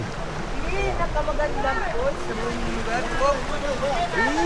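Hinipaan Falls in Camarines Norte, a small waterfall, gives a steady rushing wash of water beneath lively talk from several nearby people.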